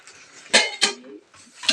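Steel kitchen containers from a spice box set clink and clatter as they are handled, giving four distinct metallic knocks with ringing, close and fairly loud, with no talking.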